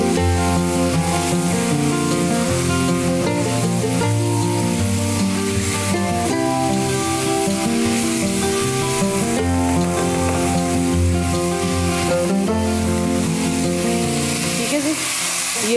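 Capsicum stir-fried and mixed in a pan hisses with a steady sizzle and stirring scrapes beneath loud, constant background music.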